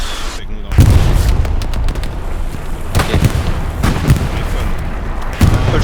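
Tank cannon and artillery fire in the video game Hell Let Loose, a series of loud booming blasts and thuds echoing over a busy battle backdrop, with people talking.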